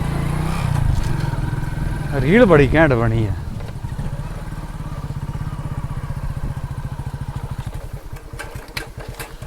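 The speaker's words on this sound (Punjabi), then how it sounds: "ਮੋਟਰਸਾਈਕਲ ਦਾ ਰੜਾੜ ਨਹੀਂ ਦੇਖਿਆ ਤੂੰ ਉਹ ਤਾਂ ਮੈਨੂੰ ਸੁਣੀ ਜਾਂਦਾ" A motorcycle engine idles and revs with a steady throbbing putter, close by, while someone talks over it.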